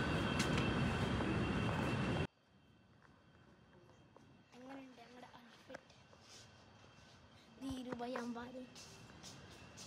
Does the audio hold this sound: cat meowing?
no